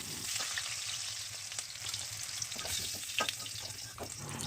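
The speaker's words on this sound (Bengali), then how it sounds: "আলুগুলো এই তেলের মধ্যে" Diced potatoes mixed with salt and food colour fry in hot oil for chicken biryani, giving a continuous close sizzle with light stirring scrapes and clicks.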